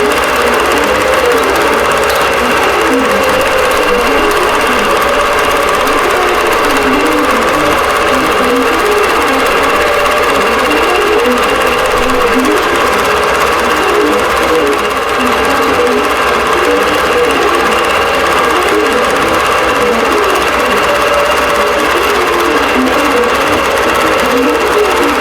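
A computerized embroidery machine stitches out an appliqué row on a quilt, giving a loud, continuous, even mechanical whir with a fast rhythmic stitching pulse that runs unbroken throughout, close up with no voices.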